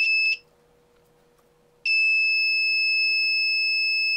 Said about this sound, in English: I'm connecting the negative to the negative and then this positive to the buzzer.